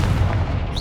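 A Confringo spell blast goes off in Hogwarts Legacy, a short, heavy, low booming explosion with a dense rumbling body that stays loud through the whole moment.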